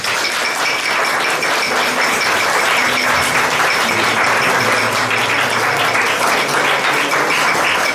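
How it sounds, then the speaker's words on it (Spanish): Wedding guests at a church ceremony applaud the couple in a loud, sustained burst of clapping that stays dense and even from start to finish, with no talk over it. "Otro aplauso, por favor."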